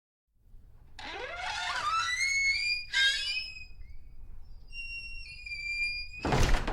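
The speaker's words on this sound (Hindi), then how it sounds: "फिर दरवाजा वापस आवाज करते हुए बंद हो गया।" A long, high-pitched creak rises and wavers for several seconds, pauses, whines again, then ends in a solid thud as the door shuts.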